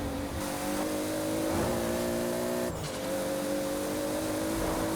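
A roughly 900-horsepower Toyota Supra engine in the racing game Forza Horizon 4 drones loud and steady under acceleration, its pitch dipping briefly at gear shifts before climbing again.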